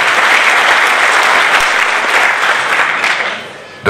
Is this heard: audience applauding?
yes